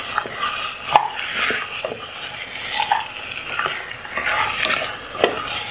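A spoon stirs pea soup ingredients in a pot, making close, uneven scraping and soft clattering strokes over a light frying crackle, with small knocks against the pot.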